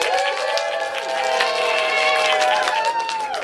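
Game show audience at a minor league show clapping and cheering in a dense, steady wash of applause, with voices and musical tones running over it throughout.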